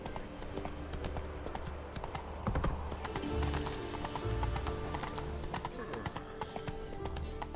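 Horse hooves clip-clop in a steady trot from Roach, Geralt's horse in The Witcher 3 video game, with an occasional whinny over a dense game soundscape and faint background voices.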